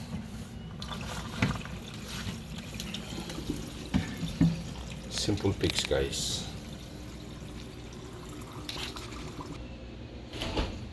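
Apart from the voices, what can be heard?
dishwasher draining water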